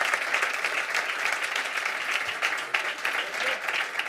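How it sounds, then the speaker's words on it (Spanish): Steady applause from an audience at a jazz recording session, an even wash of many hands clapping at moderate, fairly distant level for several seconds. "aplauso."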